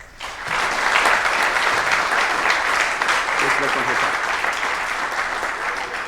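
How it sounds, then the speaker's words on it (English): Audience applause for scout troops at a city council meeting, steady sustained clapping from many hands filling the room, loud and close throughout with some faint voices mixed in. "So a round of applause for both of our troops."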